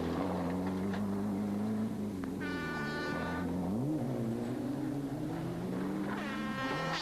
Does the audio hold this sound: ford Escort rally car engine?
yes